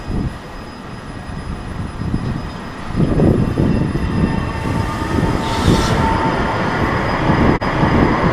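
A train rumbles at a transit station with steady loud rolling noise and surges of wheel and track sound, with a brief hiss partway through and no talking.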